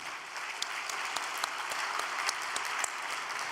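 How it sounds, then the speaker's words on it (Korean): A crowd gives a round of applause at a Korean speech gathering, dense steady clapping that lasts throughout with a few sharper individual claps standing out. "우리 두 분에게 박수 한번 올려드립시다."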